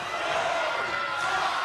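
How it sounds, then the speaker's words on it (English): A wrestling arena crowd roars loudly and continuously during a referee's count after a knockout blow, a dense, sustained wall of cheering. "You can hear the crowd here."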